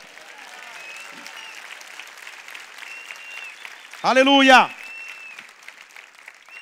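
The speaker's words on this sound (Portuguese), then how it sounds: "dê um brado ao Senhor e aplaude no teu lugar" A church congregation applauds softly and steadily in the background of a worship service while one voice breaks in with a loud, sustained shout partway through.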